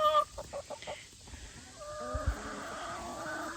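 Chickens eating treats cluck in short, repeated bursts nearby, a few clipped calls then softer continuous clucking and scratching with no one talking.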